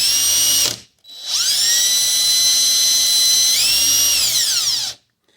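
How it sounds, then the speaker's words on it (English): Drill chucked on a lathe spinning a Kohler Magnum M18 valve guide while a file is held against it, a short whine, then a sustained high steady whirring that shifts pitch partway and winds down to a stop. "chucked it up in the drill"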